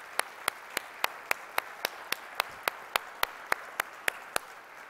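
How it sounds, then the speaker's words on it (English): Congregation at a Catholic Sunday Mass applauding the readers and servers; sharp, evenly spaced claps land at a brisk steady pace, sounding like a few hands or a single clapper rather than a full crowd, moderately close. "Let's give them a round of applause as well."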